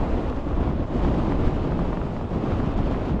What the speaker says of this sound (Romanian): și bate un vânt